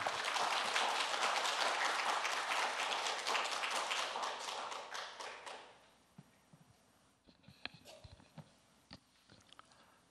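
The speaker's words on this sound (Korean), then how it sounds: "목사님 나오실 때 우리 박수로 환영하도록 하겠습니다." A church congregation applauds in a sustained burst of dense clapping that fades out, followed by scattered taps and small room noises.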